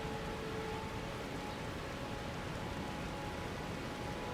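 Steady rain falls in the video game Elden Ring, a dense, even hiss of drops with no breaks, moderately loud and alone throughout.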